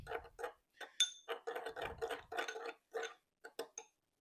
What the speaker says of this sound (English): I'm going to stir that up.